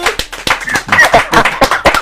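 An audience at a gathering in the town of Gbongan claps loudly and close by, the sharp hand claps coming in quick, uneven bursts with no talking.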